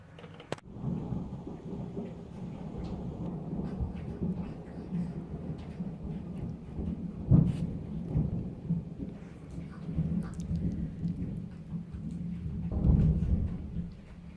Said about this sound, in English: That was a big roll of thunder.